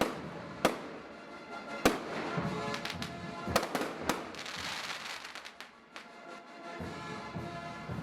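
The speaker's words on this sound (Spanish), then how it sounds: "con fuegos artificiales que iluminan el cielo en medio de los salares" Fireworks bursting over a night festival in Salinas de Garci Mendoza on the Bolivian salt flats, a steady run of sharp cracks and booming pops at varying distances over a continuous crackling rumble, with no talk.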